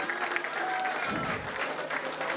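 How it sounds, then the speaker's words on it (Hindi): An audience at a Bihar Diwas celebration at a college in Patna gives a burst of thank-you applause, with continuous clapping and some talk over it. "तो एक बार जोरदार ताली से इनका भी धन्यवाद ज्ञापन करें।"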